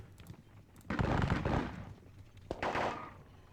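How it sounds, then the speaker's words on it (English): Two heavy cannon blasts from a Battle of Dennewitz war video game, the first a long booming roar and the second a sharper crack with a rumbling tail, both fairly close. "Fire at the cannon."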